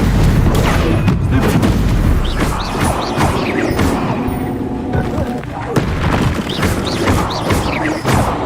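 Spell effects from a Harry Potter video game, a dense, loud run of booming blasts, crashes and magical impacts layered over one another, with someone speaking now and then over the clamor.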